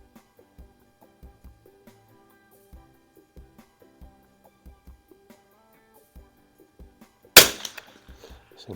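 A 1937 Remington model 41-P bolt-action .22lr target rifle fires a single sharp, close shot during 50-yard target shooting, preceded by faint scattered clicks and taps.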